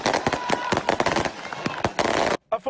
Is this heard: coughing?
no